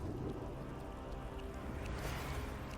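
Retroact rain in the Wuthering Waves video game falls as a steady, dense wash of rainfall with a low rumbling undertone, continuous and fairly close, with no clear voices.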